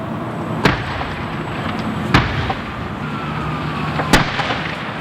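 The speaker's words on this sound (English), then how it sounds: "PennDOT tells us those explosions were portions of concrete exploding in the intense heat of the fire" Concrete exploding in the intense heat of a tanker truck fire: three sharp, loud bangs spaced about one and a half to two seconds apart over a continuous roaring, crackling fire background, with no speech.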